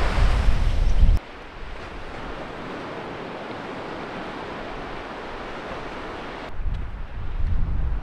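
Ocean surf rolls in at the 1770 surf break on Australia's east coast, near the Great Barrier Reef, as a continuous wash of waves buffeted by wind noise, with louder rumbling bursts at the start and end.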